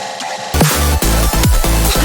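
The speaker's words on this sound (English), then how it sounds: "That's usually just some delay and a reverb." Electronic music break in Ableton processed with delay and reverb, starting after a half-second quiet lead-in, with loud repeating bass hits and falling sweep tones smeared into a dense, washy tail; no talking.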